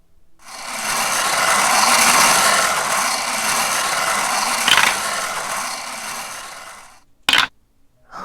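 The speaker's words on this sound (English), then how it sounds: "I'm going to go ahead and spin that wheel again" A prize wheel spins at a home savings challenge game, a dense rapid clicking ratchet sound that swells then slows over several seconds before stopping, followed by a short separate knock, close and without talking.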